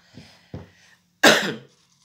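Two soft throat sounds followed by one loud, harsh cough burst, close and alone with no talking.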